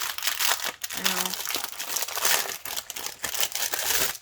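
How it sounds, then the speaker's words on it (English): Plastic packaging from a holiday art supply haul crinkles and crackles steadily at close range for several seconds, with a brief lull partway through. "lots of crinkling."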